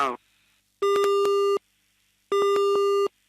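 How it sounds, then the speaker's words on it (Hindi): A telephone busy signal after a dropped call line: two loud, even beeping tones, each lasting about three quarters of a second and separated by silence, preceded by a brief fragment of another sound at the start. "उनकी फोन लाइन कट गई।"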